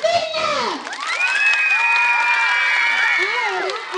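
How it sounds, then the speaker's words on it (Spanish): Children at a primary school Christmas posada with clown performers cheer, squeal and shout in high-pitched voices, with scattered clapping mixed into the steady, lively crowd noise. "¡Aplaudimos a todas las niñas!"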